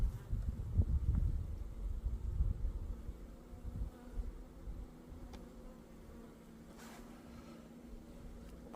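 Honeybees hum steadily at an opened spring beehive, a close, continuous buzz with some low handling rustles early on.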